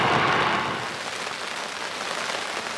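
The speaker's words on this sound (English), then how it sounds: "The rain's just starting to come down." Rain begins falling outdoors during a mid-November carp fishing trip, a soft dense patter that is strongest at first and then settles into a quieter, steady shower with no voices.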